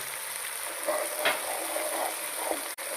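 Food frying with chili sauce and soy sauce in a pan, an even close sizzle with soft stirring scrapes and a few brief clanks throughout.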